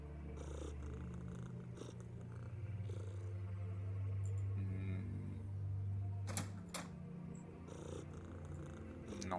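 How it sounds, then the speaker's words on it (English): A kitten in the video game Underrail purrs steadily and softly for several seconds, a low continuous rumble with a few faint clicks over it. "Oh, there is a kitten."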